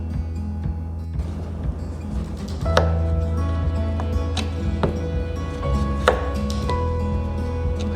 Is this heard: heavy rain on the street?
no